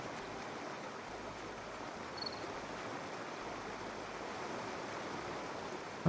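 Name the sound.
waterfall rushing in video game My Time at Portia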